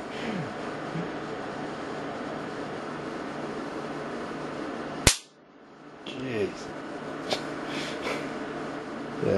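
A single sharp electrical crack from a homemade low-energy surge generator bursts out loud and close amid a humming background, followed by a brief lull and fainter snapping zaps.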